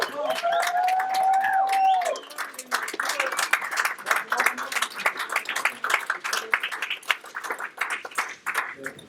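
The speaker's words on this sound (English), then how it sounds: "Welcome both of them to the stage, and I want to hear a multi-millionaire's huge round of applause." Seminar audience clapping and cheering as two speakers come onstage, loose crowd applause rising after an opening voice over music and continuing with scattered whoops at moderate distance.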